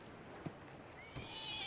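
A horse whinnies and its hooves clip-clop in the snowy western game Red Dead Redemption 2, two short sharp calls and steps heard faintly against quiet game ambience.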